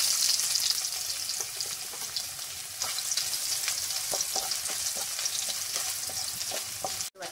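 Chopped coconut fries in about two tablespoons of oil in a hot pan for pepper chicken, a continuous bright crackling sizzle with light stirring ticks, close and alone, ending in a sharp knock.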